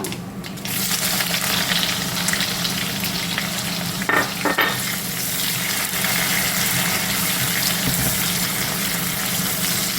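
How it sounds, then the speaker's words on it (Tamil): Chopped onion and dried chillies frying in hot tempering oil for tomato chutney, a loud, dense, continuous sizzle close up, with a couple of brief stirring clatters midway and no talk. "இதில் வந்து மூணு பச்சை காஞ்ச மிளகா ஒரு பெரிய வெங்காயம் கட் பண்ணி வச்சுருக்கேன் நான் அதை போட்டுறேன்"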